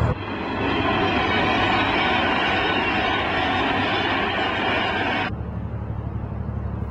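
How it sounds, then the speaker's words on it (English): A train rumbles past a canal steadily with a broad, roaring wheel noise that suddenly drops to a quieter hum near the end. "You only hear the trains once in a while"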